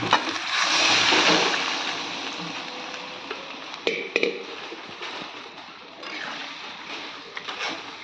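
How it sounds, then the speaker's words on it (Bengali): Water pours into a hot pan of braised meat and potatoes with a rushing hiss that swells early then fades to a low bubbling simmer, with a few clanks of a utensil against the pan midway. "এবার আমি জল দিয়ে দেবো।"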